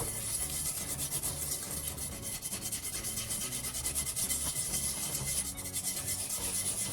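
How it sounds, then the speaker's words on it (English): Steel scrub pad scouring an old scorched pan: a steady, close, gritty rasping that runs continuously with slight rhythmic strokes and no voices. "We'll use a steel scrub pad to clean the surface."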